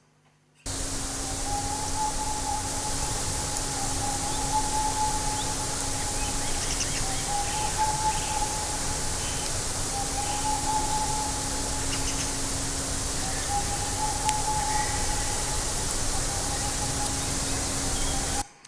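Distant owl calls repeat four times as faint, single-pitched hoots, nearly buried under loud, steady static hiss in a field recording.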